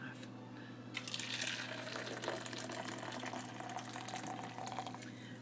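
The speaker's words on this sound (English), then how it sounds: "I think they all have plenty of hot water" Hot water pours steadily into containers holding fabric samples for a dye-bleeding test, with a soft gushing splash, close and fairly quiet, over a constant low hum.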